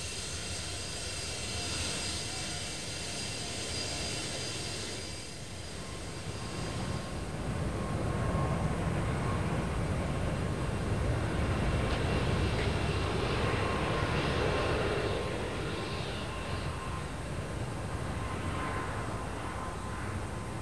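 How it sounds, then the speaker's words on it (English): A Fokker 100 airliner powered by two Rolls-Royce Tay turbofans flies on its maiden flight from Schiphol, giving a continuous broad jet roar that swells louder midway and holds for about twenty seconds. "The new aircraft, powered by two Rolls-Royce Tay turbofans,"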